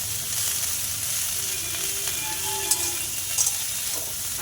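Drumstick flowers frying with heavily salted potatoes in a pan, giving a steady, close sizzle throughout with a few faint stirring clicks.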